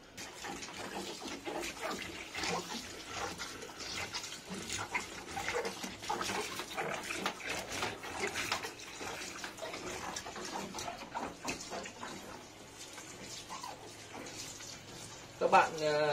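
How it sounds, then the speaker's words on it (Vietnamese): Water from a hose rinses the rubber door seal of a front-loading washing machine at home, a continuous splashing, hissing spray for about sixteen seconds, fairly close, with a brief louder burst near the end. "dùng vòi nước để xả"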